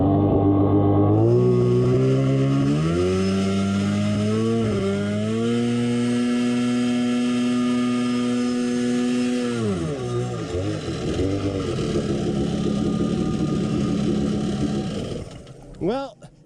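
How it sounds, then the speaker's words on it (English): X2 minibike engine running on a CDK2 carburetor, loud and close, its pitch sweeping up and down as the throttle is worked before settling into a steady high rev, then cutting off near the end. "This carburetor is working the way it's supposed to."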